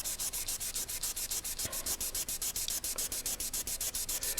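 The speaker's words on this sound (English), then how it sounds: "it's a lot easier to get it out with the 2000 grit sandpaper" Wet sanding final clearcoat by hand with 2000 grit sandpaper on a Bimota motorcycle restoration, a loud, close, steady rhythmic rasp of quick back-and-forth strokes, about five per second.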